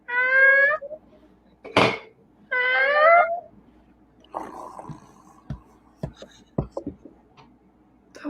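A voice imitates a gentle early-morning cat meow, with two soft, wavering meows at the start. Quiet laughter, breaths and clicks follow in a small room.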